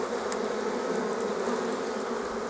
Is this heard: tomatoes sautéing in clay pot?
no